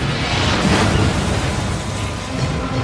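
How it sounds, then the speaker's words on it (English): Elevators crash down their shafts in the Willis Tower and blast through the floors like a bomb, making a loud, deep, continuous rumble that swells and rolls without letting up. "come down those shafts, blasting through the floors like a bomb, cutting through the building"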